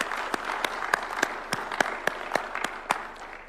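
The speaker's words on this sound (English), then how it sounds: "Let us give her a round of applause." Applause at a presidential bill signing for a disability rights law in Kenya: a steady round of clapping from an audience, with distinct sharp claps standing out over a continuous crowd patter.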